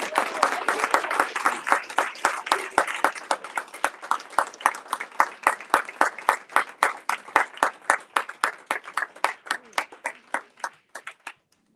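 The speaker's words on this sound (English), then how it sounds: "Give him a round of applause, please" Audience applause at a panel discussion on women of the Black Panther Party, starting as a dense burst and thinning into slower, rhythmic individual claps that fade out toward the end.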